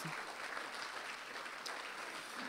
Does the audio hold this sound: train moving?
no